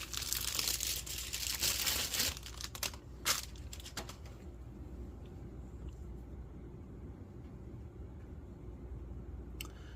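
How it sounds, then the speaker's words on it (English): Plastic bag crinkles and rustles loudly for a few seconds as a ratchet is unwrapped, then fades to quiet room hiss with a couple of sharp handling clicks. "It's in a plastic bag here. Take that out and take a look at it."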